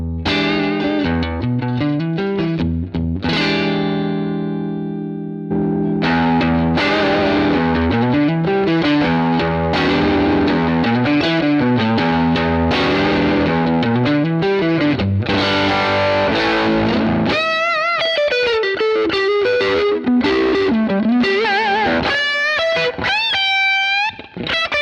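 Electric guitar through a VS9 valve screamer overdrive pedal, warm overdriven crunch playing a chugging riff, then shifting to higher melodic bends and runs, loud and continuous.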